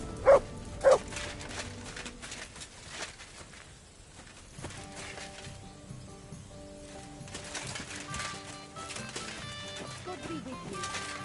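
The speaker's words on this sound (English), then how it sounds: "Good dog. Good boy." A dog barks twice in close succession at the start in Kingdom Come: Deliverance II, loud and near, followed by game background ambience with a faint melody and distant voices.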